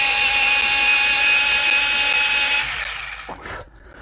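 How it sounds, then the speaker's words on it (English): An electric pencil sharpener grinds a soft drawing pencil in one steady, loud whirring burst of about three seconds, then winds down to a brief quieter rattle as the pencil is pulled out. "I'm gonna go ahead and sharpen this, sorry."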